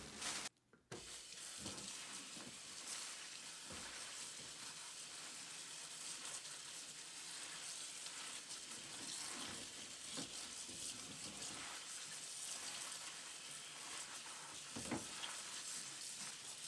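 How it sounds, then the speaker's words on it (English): Spinach leaves freshly harvested from a backyard garden are rinsed under running water in a sink, a steady broadband splash and hiss that runs throughout, close by, with occasional handling bumps and no talk. "there's dirt on them, so it's time to give everything"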